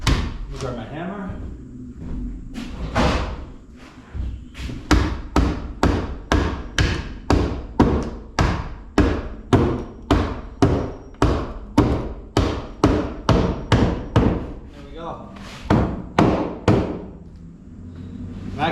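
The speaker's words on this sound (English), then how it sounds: "Grab my hammer." Hammer driving nails to fasten sheetrock nailers of plywood, a long steady series of about thirty sharp, loud, evenly spaced blows close by, with brief pauses near the start and toward the end.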